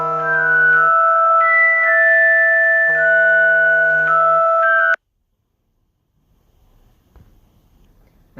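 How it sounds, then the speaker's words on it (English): A phone ringtone for an incoming call plays loudly as a repeating electronic melody for about five seconds, then cuts off into near silence with faint rustling. "I've never seen it interrupt the video for a call"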